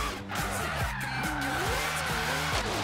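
A car drifts in Forza Horizon 3, its engine revving up and down in wavering surges while the tires squeal and skid steadily, close and loud, with a voice speaking now and then.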